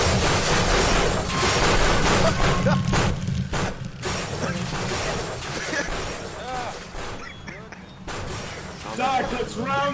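Glass shatters and metal creaks aboard a vibrating boat during a tabletop horror game session, loud crashing and rattling bursts layered under excited voices.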